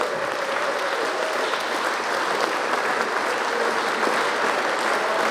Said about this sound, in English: can we have a huge award, round of applause for our supreme winners